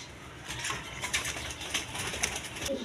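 Pigeons coo softly nearby in a pigeon sale setting, repeated low throaty calls with light scratchy rustling and faint clinks mixed in.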